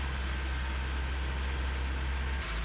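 A tractor engine running steadily on a video game farm, a loud, continuous low drone with a brief dip in pitch near the end and no voices over it.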